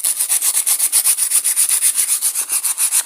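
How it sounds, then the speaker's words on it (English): Sandpaper rubbing around a lawn mower shaft to clean it before fitting a new oil seal, a steady rapid back-and-forth scratching with even strokes, close and fairly loud, no talk. "take a bit of sandpaper and just clean the shaft up"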